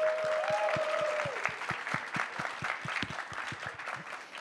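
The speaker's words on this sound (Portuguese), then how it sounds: "Pessoal, uma salva de palmas." A conference audience applauds the speakers at a Brazilian creative-economy event, a sustained wash of many hands clapping with sharp individual claps standing out, fading toward the end; a brief tone sounds near the start.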